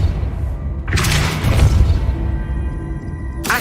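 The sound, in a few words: Depulso spell effect in video game Hogwarts Legacy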